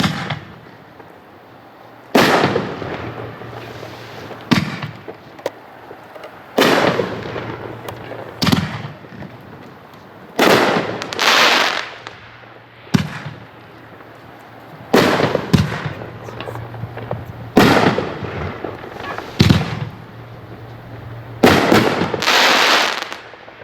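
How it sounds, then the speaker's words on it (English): Loud consumer aerial firework shells from a 9-shot, 500-gram pro-level Maltese cake burst into rings outdoors, a series of sharp booming reports with crackling tails arriving in clustered volleys, with no talk. "Those are the best rings I've ever seen in a consumer firework."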